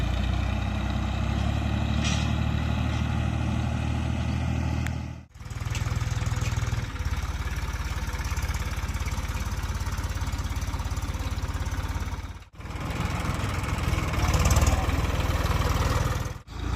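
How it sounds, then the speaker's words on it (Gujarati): A tractor engine drones loud and close as the tractor works a wheat field, holding a steady low rumble that dips briefly twice and then resumes. "ટ્રેક્ટરને કોમ ચાલુ કરી દીધું છે"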